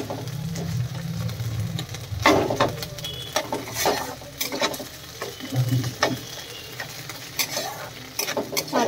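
Ginger frying in hot oil, a close bubbling sizzle with repeated scraping stirs and light clinks of utensil against the pan, uneven in rhythm, with no speech.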